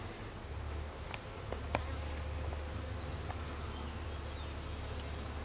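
Honey bees hum around a backyard hive entrance as foragers carry in pollen, a steady low insect buzz running throughout with a few faint clicks and ticks on top.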